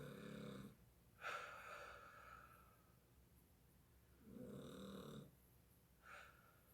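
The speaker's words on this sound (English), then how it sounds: "Wow, the snoring's pretty loud over there." A person snoring nearby during a dumbbell workout: two long, rough, wheezy snores with a snort between them, fairly faint and alone, spaced a few seconds apart with quiet breathing in between.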